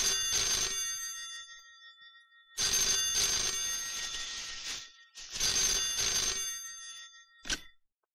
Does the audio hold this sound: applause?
no